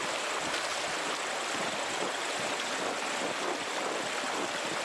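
Steady rushing water from a waterfall in the video game Pentiment, a constant broadband roar that stays loud and even throughout with no talk over it.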